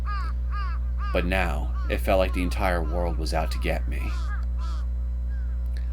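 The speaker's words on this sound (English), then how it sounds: "I could faintly hear the sound of birds chirping atop the phone lines" Crows caw from the phone lines in a few rasping calls, first on their own and then under a voice as he speaks over a constant low hum.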